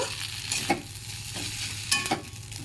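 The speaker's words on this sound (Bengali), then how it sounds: "আর একদিকে হচ্ছে নারকেলটা গুড় দিয়ে ভাজা করছি" Grated coconut frying with jaggery in a pan gives a soft, steady sizzle, broken by scraping stirs of a spoon against the pan.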